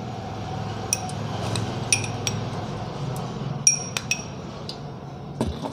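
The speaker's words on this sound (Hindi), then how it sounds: "मिलाने के बाद इसे थोड़ा सा हिलाएं। ये आपके सामने हिलाया जा रहा है।" A glass container of herbal cracked-heel remedy mixture being shaken and stirred, giving sparse light clinks and taps over a steady background hiss, with no talking.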